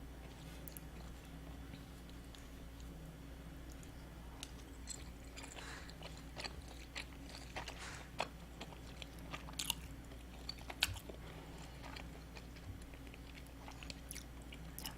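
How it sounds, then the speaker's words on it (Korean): Boiled water dumplings (mul-mandu) from a GS25 convenience store are bitten and chewed close to the mic, giving soft, steady, moist chewing with small crunchy clicks over a faint low hum. "물에 담근 만두 맛있다."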